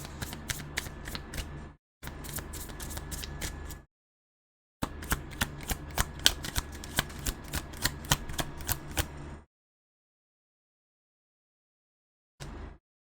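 A tarot deck is shuffled close up in three long runs of rapid riffling card clicks, separated by silent pauses, then one short burst near the end, with no voices.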